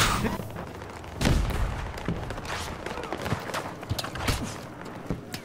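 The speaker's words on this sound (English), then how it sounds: "Who's shooting from behind?" Game gunfire in Battlefield 2042 during a vehicle ride: a burst of sharp shots near 1.2 seconds, then scattered cracks and thuds over engine rumble, some nearby and some more distant, with no voice.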